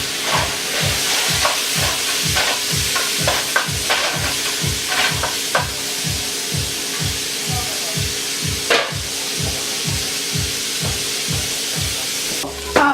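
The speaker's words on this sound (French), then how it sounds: "c'est frit là, regardez comment ça sent bon" Food frying in a pan in Creole home cooking, a steady sizzle throughout with a rhythmic scraping stir repeating about twice a second, close and fairly loud, no voices.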